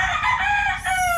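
Chickens crowing and clucking, with a steady rooster crow carrying close and loud over a low background rumble, briefly dipping before the call resumes.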